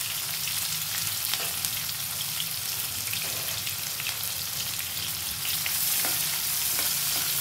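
Onions and green chillies fry in a pan for a curry, a steady close sizzle running throughout with a few faint scrapes of stirring.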